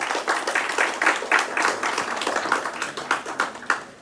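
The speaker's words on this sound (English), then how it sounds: "Let us give all a round of applause for this remarkable partnership." Steady audience applause at a law college and IAS academy partnership ceremony in Jammu, dense overlapping claps sustained evenly for several seconds with no talk over it.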